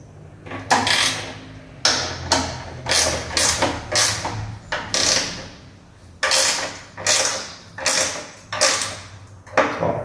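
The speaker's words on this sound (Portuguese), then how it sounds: "Ó, apertei. Apertei aqui, tá pronto o paralama." A fastener being tightened on the fender of a Berg trike makes repeated ratcheting, creaking mechanical bursts in a steady rhythm, close up and fairly loud, with no talking.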